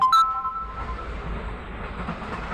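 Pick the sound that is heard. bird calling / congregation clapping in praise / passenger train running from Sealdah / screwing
passenger train running from Sealdah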